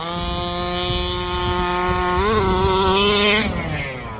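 A Rovan Baja 5T gas RC car with a 36cc engine screaming at full throttle, a loud, close, buzzing two-stroke drone whose pitch climbs in surges before dropping off near the end.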